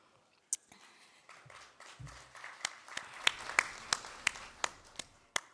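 Sparse applause from an audience at an International Women's Day event, scattered individual claps building into a few louder, distinct hand claps, with some rustling and footstep-like shuffling in between.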